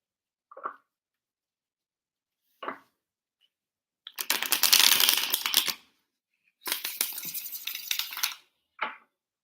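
Tarot cards being shuffled in bursts: a few brief riffles, then two longer, dense runs of rapid papery flutter, with short taps of the deck squared between them. Fairly close and alone, with no talking.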